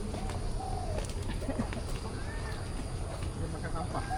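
Birds at KL Bird Park give soft cooing and chirping calls, scattered and fairly faint under a steady wash of ambient noise and distant crowd murmur.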